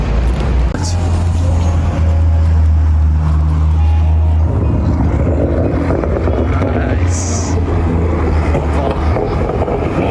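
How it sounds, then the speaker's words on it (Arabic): Cars pass in steady road traffic near a seaside beach in Bournemouth, a loud continuous engine and tyre roar with a low droning hum that shifts as vehicles move by. "عربيات يا باشا."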